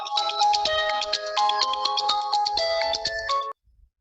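A mobile phone ringtone plays a bright, looping electronic melody of stacked tones, loud and close, for about three and a half seconds before cutting off abruptly into silence.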